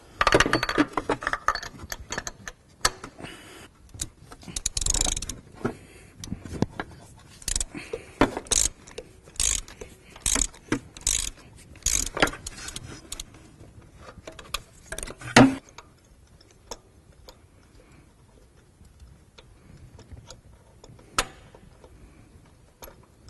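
A socket ratchet loosens a spark plug on a Smart Fortwo engine, giving fast runs of metallic clicking for about fifteen seconds, then sparser, fainter clicks and light handling noises.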